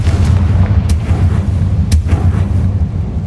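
Confringo fire spell blasts in Hogwarts Legacy, a loud, dense rumbling explosion with a couple of sharp cracking bursts over a constant heavy low roar.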